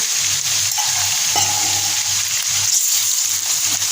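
Steady sizzling of ginger-garlic paste frying with onions in a pan, with a spoon scraping and stirring in a loose rhythm, close and loud, no voices.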